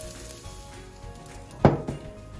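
Steak on a hot grill, a soft continuous sizzle with a brief louder clack of a utensil or the meat being moved partway through, close and without talk.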